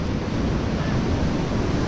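Sea waves breaking on a beach in Turkey, a continuous loud roar of surf mixed with heavy wind buffeting the microphone.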